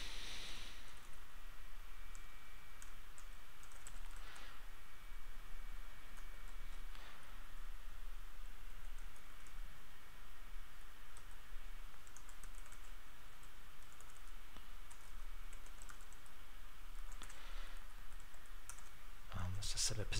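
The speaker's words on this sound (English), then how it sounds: "Excuse the typing." Steady computer keyboard typing, a continuous run of quick clicking keystrokes at close range, over a faint background hum.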